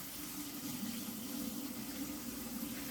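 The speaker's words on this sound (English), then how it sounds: "I'm going to drain my noodles and run cold water on them" Cold water running from a kitchen tap over drained noodles, a steady, even gush and splash, close and continuous with no talking.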